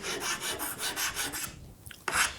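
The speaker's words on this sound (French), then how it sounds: "Alors là je le fais à la râpe" A rasp files wood in steady rhythmic back-and-forth strokes, close and clear, as part of shaping a router-cut mortise and tenon joint, ending with a few lighter scrapes.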